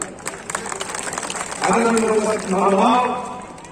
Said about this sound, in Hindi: इसलिए इनको जोरदार ताली से स्वागत किया जाए।